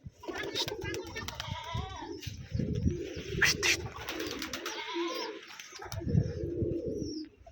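Several pigeons coo in low, throaty bursts, close by on a pigeon farm in Rajshahi, with wing flutters and light rustling between the calls.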